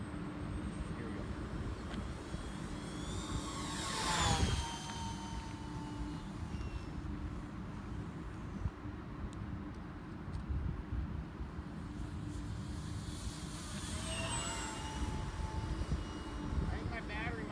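A Horizon Hobby Spitfire 1.2 m RC model plane on a 4S pack, its motor droning steadily at a distance with two louder swells as it passes closer, while someone talks over it.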